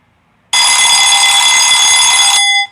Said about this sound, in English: alarm ringing